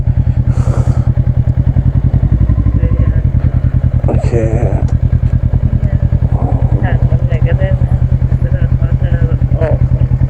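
A motorcycle engine thumps loud and steady at close range throughout, its even pulsing beat running beneath people speaking in Thai.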